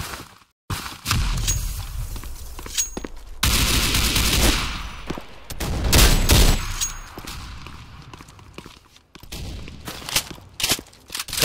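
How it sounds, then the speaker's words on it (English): Sustained bursts of automatic gunfire and volleys of shots from a competitive tactical shooter game, loud and dense, with short gaps and quieter stretches in between, plus faint footsteps and no talking. "Opening fire!"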